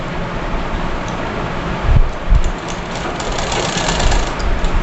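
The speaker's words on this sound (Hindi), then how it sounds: "अब इस पे हम इस कपड़े को रखते हुए सिलाई करेंगे बीचों बीच से" A sewing machine stitches through the fabric of a girl's frock, a continuous close mechanical whirr with a rapid ticking rhythm and a couple of heavier thumps midway, loud and alone.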